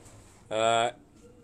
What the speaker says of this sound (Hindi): ये जो नाग ब्रीड के नाम से उनके ये सब्ज़ गले वाले कबूतर हैं